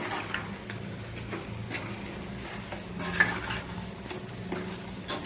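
Chicken pickle fries in oil with salt and chilli powder, a soft steady sizzle beneath occasional scraping stirs of a spoon against the pan, close but fairly quiet, with no talking.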